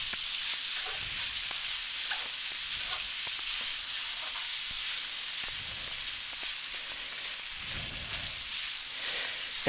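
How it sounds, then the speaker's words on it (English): Nasi goreng fried rice sizzles in a wok, caramelizing on the bottom: a continuous close crackling hiss with occasional soft stirring, and no talk. "Getting some lovely sticky bits on my rice as it caramelizes on the bottom of the wok."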